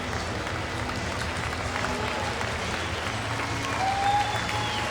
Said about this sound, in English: He will get a standing ovation from the crowd here at Bluebell Park.